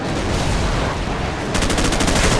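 Loud, dense automatic gunfire rattles in Call of Duty, a continuous burst of rapid shots close up that shifts into a sharper, faster rhythm partway through.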